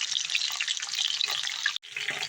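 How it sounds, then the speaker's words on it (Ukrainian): Steady crackling sizzle of cabbage rolls frying in a pan, close and continuous, with a momentary drop near the end. "Отак, щоб смажу з обох сторін, а потім вже будемо тушкувати"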